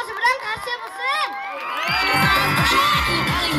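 A concert crowd whoops and shouts excitedly at first, then breaks into loud, sustained rhythmic clapping and cheering that fills the rest of the moment.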